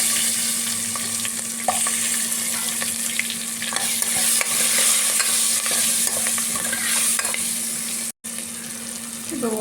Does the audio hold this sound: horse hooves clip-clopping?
no